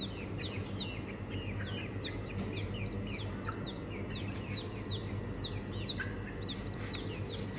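Small chicks held in a cage give a steady stream of high, overlapping peeps and chirps over a constant low background hum, close and continuous throughout with no talk.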